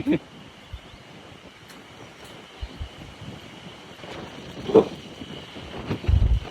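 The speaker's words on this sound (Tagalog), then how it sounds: "Lakas ng hangin." Strong, cold wind buffets a handheld phone microphone while walking on a wooden walkway in Nasushiobara, Japan, giving a steady low rumble with a few louder gusts near the end.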